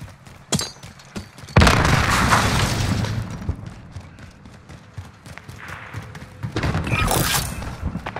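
A frag grenade goes off in a Warzone-style battle royale plunder match, one loud close boom followed by a rumbling tail, with scattered gunfire and game noise before and after.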